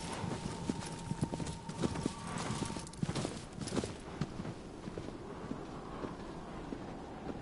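Horse hooves clip-clop in the video game Shadow of the Colossus, a steady trotting rhythm of hoofbeats with wind blowing behind, moderately loud, with no talk over it.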